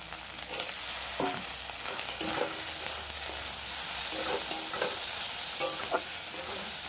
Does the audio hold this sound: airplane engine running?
no